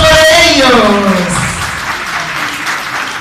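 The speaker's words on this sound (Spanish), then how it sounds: "¡Aplauso para ellos!" An audience applauds for Henry and Flor, a burst of loud clapping that rises under a voice and then fades to a softer patter over a few seconds.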